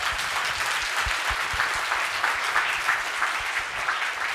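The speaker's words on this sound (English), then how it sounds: "Let's give her a round of applause." A hall audience at a closing address applauds a young woman who made a video, giving a continuous, even roar of many hands clapping, fairly loud and unbroken throughout.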